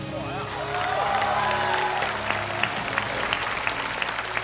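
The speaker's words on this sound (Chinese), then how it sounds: "掌声欢迎河马" An audience applauds a guest coming on stage at a televised Spring Festival special: a loud, sustained wave of clapping that slowly thins out toward the end.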